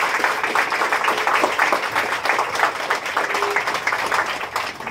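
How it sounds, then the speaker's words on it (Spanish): A Catholic congregation at Mass gives a strong round of applause, a sustained dense clapping of many hands filling the room, steady and fairly loud for several seconds with no speech. "Le damos un fuerte aplauso a nuestro Señor"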